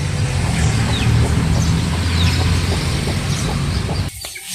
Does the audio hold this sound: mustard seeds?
no